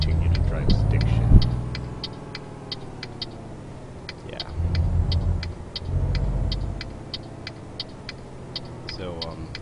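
A truck engine in the Euro Truck Simulator game drones and rises and falls as it shifts through gears, with a regular ticking over the rumble and a voice talking at times.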